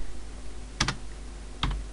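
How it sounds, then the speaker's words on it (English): Two quick bursts of computer keyboard typing, each a short cluster of clicks, heard close over a low steady hum in a quiet room. "we now have to do this by typing"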